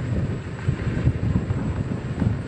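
Continuous buffeting wind noise rumbling against the microphone during a ride, fairly loud and steady with gusty swells, no voices.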